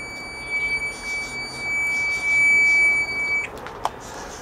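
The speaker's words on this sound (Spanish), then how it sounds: "también tiene esa función del pitido" A steady high-pitched electronic beep from a multimeter's continuity test sounds continuously for about three seconds, then stops, followed by a few faint clicks.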